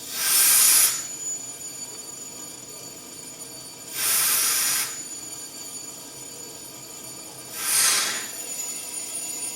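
An electric bell inside an air jar rings in three separate bursts about four seconds apart, growing louder as air is let in, each lasting roughly a second, over a steady hiss.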